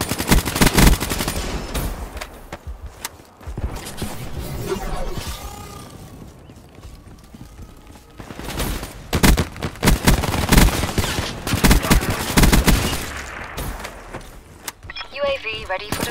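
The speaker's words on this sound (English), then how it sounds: "Opening fire." Rapid gunfire bursts in the video game Call of Duty: Black Ops III, loud and repeated across the span, mixed with game effects and electronic announcer voices.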